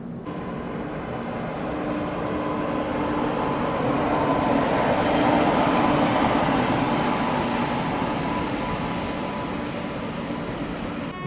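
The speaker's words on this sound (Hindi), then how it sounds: "आगे से कोई दानापुर सुपरफास्ट ट्रेन आ रही है" The Jabalpur–Chandafort passenger train passes close beside a halted express train, giving a steady, loud rumble and rolling clatter that swells slightly in the middle and stays even throughout.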